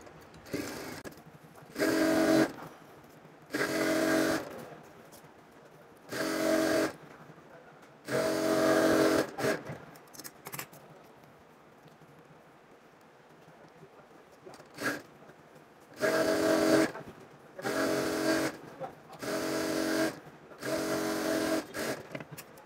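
A sewing machine stitches the side seams of a petticoat in repeated short bursts of rapid mechanical whirring, each a second or two long, separated by quiet pauses, with a longer gap midway.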